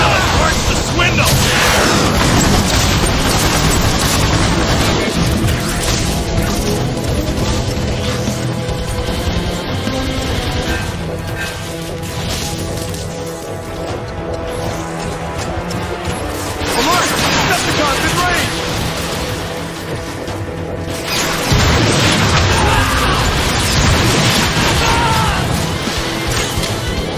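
Artillery shelling and explosions in the Transformers: Fall of Cybertron video game, with dense, loud, continuous booms and crashes layered over game music and effects, with bursts building near the start and again toward the end.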